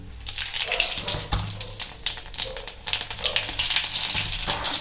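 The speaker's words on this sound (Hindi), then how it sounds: "मैं जीरे का छौंका लगाती हूँ" Crackling, popping sizzle of cumin seeds tempering in hot oil, irregular bursts of spattering over a low background hum.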